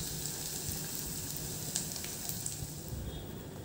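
Ginger-garlic paste sautéing in hot oil in a pan gives a steady, close, even sizzle with faint crackles, no voices.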